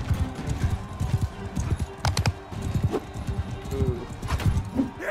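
Horse hooves pound in rapid galloping clip-clops during a Mount & Blade II: Bannerlord battle, loud and close, with clatters of combat and a voice talking over the hoofbeats.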